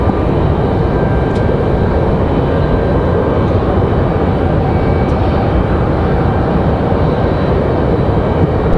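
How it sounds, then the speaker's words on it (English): American Airlines airliner arriving from Miami at Raleigh-Durham airport, heard as a loud, steady broadband jet roar that holds without a break and drowns out everything else. "This is American 1566 coming at us from Miami."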